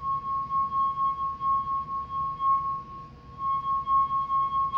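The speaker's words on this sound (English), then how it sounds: "You can press on it, make a force vibration, and the wine glass will sing." A wine glass rubbed with a wet finger sings a steady, pure tone that holds throughout at a moderate level, with a faint low rumble beneath it.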